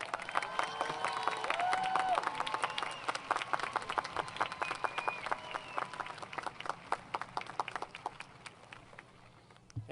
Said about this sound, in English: Please join me in warmly applauding the many fine accomplishments of Professor Pete Riley and Mr. Javier Carvajal Ramos.